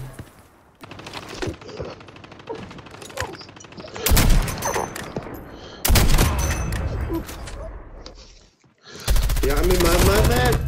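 Rapid bursts of gunfire from Call of Duty Mobile battle royale, loud cracking volleys coming in several separate clusters with brief quiet gaps between, under someone talking excitedly.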